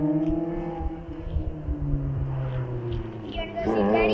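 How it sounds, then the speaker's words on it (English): A second-generation Toyota MR2 runs on an autocross course, its engine droning steadily at a distance beneath nearby chatter and background crowd noise. "Second gen MR2 on the track right now"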